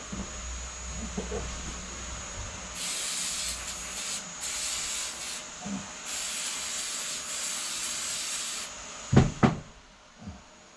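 Repeated scrubbing and rubbing strokes on a filthy metal gearbox part, close by, in several bursts, followed by a few light knocks.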